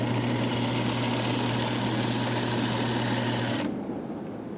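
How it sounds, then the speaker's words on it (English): A Juki DDL series industrial lockstitch sewing machine runs steadily with a loud, even mechanical hum and whir, then stops abruptly just before the end. "Okay, so now let's sew and show what that looks like."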